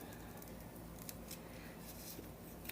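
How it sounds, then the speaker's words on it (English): Faint, quiet snipping of scissors cutting through material, a few soft crisp snips over low background hiss. "I probably should use smaller scissors"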